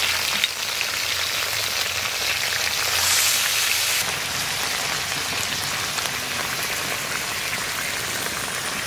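Crab frying with spices in a village-style tawa pan, a steady, loud broadband sizzle and crackle with a brief hissier burst near the middle, no talking.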